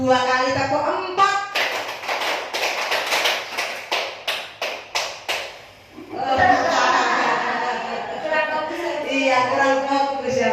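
A group claps the 'tepuk 4' pattern twice in a row, with a lively run of sharp, evenly spaced close claps, and talking before and after.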